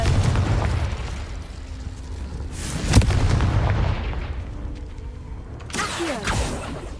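Spell blasts from Incendio and Confringo in Hogwarts Legacy, loud booming fiery explosions with sharp cracks, a couple of distinct bursts over a rumbling combat background.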